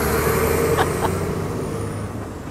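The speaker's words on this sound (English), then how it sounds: "let's just wait for this lorry" A lorry rumbles past in a street at Talbot Square, Blackpool, a loud, steady engine drone with brief hissing bursts, fading slightly as it moves away.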